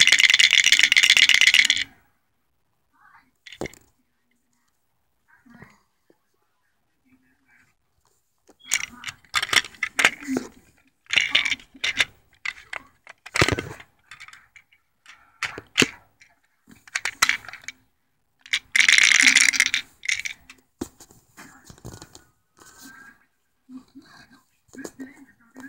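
A hollow prop pill bottle made from Lego, modelled on the pills from Left 4 Dead, rattles in several loud, short bursts of shaking spread between quiet gaps, with a voice speaking between the bursts.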